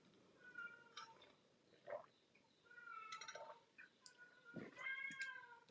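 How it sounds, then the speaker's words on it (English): Somewhere outdoors a cat meows repeatedly, several drawn-out calls spaced over a few seconds, faint and set against a low hiss of background noise. "If you can hear that cat, it's not a baby crying."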